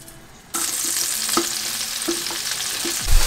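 Cod, mushrooms and olives fry together with chermoula in a pan, a steady broadband sizzle that starts abruptly and carries on loud and close. A few soft utensil clicks sound over it, and there is no talk.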